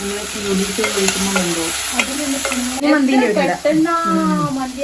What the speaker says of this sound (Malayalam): അപ്പോൾ ഉപ്പ് നമ്മുടെ മസാല നല്ലോണം വഴണ്ട് വരണം